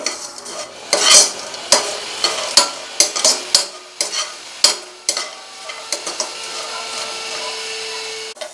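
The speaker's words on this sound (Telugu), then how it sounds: "ఇక్కడ జీడిపప్పు కిస్మిస్ బాగా ఫ్రై అయ్యింది" Cashews and raisins fry in a pan of ghee for semiya payasam, with a steady sizzle broken by repeated sharp scraping clicks of a spoon stirring against the pan at an irregular pace.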